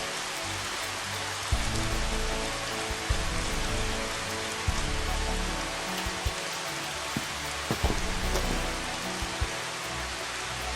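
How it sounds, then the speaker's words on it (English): Steady morning rain pours in Final Fantasy XV, a dense even hiss of drops falling on surfaces with occasional soft low thuds, continuous and close, no voices. "that morning rain does look legit, super gloomy and gray"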